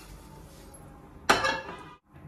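A cooking pot set down on a kitchen stove gives one sharp metallic clink, alone and close, with a short ringing tail before quiet.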